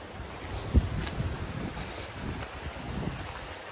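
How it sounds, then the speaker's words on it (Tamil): Strong wind gusting across an open outdoor plot, a steady broadband rush with low buffeting thumps against the microphone, loud and continuous with no voices. "நல்ல காற்றடிக்குது"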